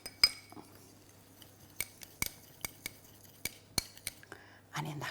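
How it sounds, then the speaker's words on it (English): A small spoon stirs water into a lemon and lavender tart mixture, tapping and clinking against a bowl in a string of sharp, separate ticks, followed by a brief scraping swirl at the end. "And we'll get a little spoon to stir."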